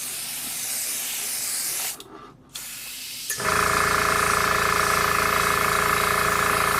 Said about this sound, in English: you can do very good control spraying